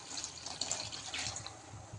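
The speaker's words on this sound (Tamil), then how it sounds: "தண்ணி ஊற்றிக்கலாம்." Water is poured into a pan of egg curry with masala (muttai kulambu), a brief, close splashing and gurgling stream lasting a couple of seconds.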